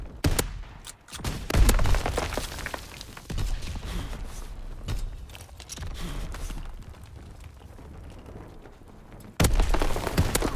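Grenade launcher rounds and gunfire from Call of Duty WWII multiplayer, a burst of loud thumping shots and bangs, then scattered weapon reports and mechanical clatter, close and dense.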